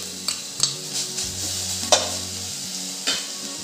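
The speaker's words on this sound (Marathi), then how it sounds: "तुपात मी आता बीट टाकून घेते आहे।" Beetroot cooks in ghee for carrot halwa, a soft sizzle under a low hum, with several distinct spoon or pan clinks as it is stirred, no voices.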